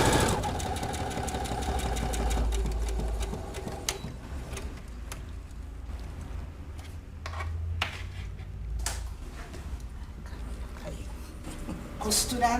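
A sewing machine runs on its own, its motor whirring steadily and then shifting pace as the speed is turned down and up, with clicking mechanism and occasional thumps, close by and with a voice talking at times.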